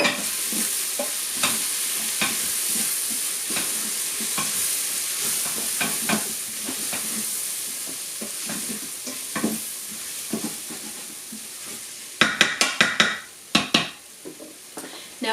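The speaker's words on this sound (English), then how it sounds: "I'm going to put the curry powder in and saute that" Curry powder sautéed with onions and ginger in a pan for a gizzard curry, giving a steady sizzle under repeated scraping stir strokes, with a burst of louder clattering spoon hits near the end.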